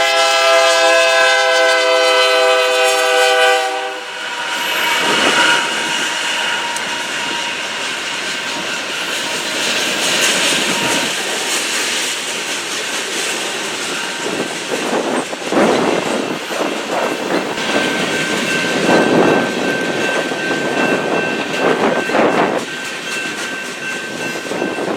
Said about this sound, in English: a southbound manifest on the BNSF with two C-44-9Ws on point made its way through